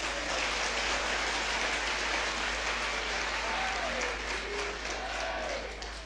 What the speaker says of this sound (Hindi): हाथ उठा के ताली बजाओ ना